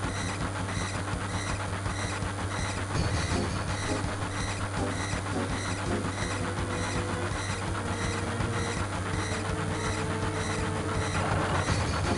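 Moving train in Final Fantasy 7, a steady rumbling rail ride with faint rhythmic clatter and mechanical hum, continuous and fairly loud throughout.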